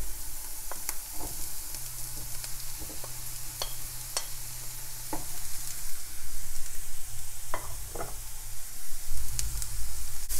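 Risotto rice sizzles steadily in a pan while a spoon stirs it, giving scattered sharp clicks and scrapes over a continuous frying hiss that grows a little louder toward the end, with no speech.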